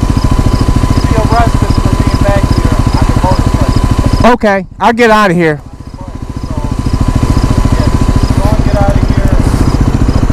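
A dirt bike engine idles and revs steadily in the woods, loud and close with a throbbing mechanical drone, then swells briefly as the throttle is blipped; someone speaks over it.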